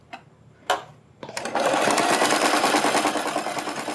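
A sewing machine stitches a kurti seam, starting with a couple of soft clicks and then breaking into a loud, steady rapid whir that runs on close by.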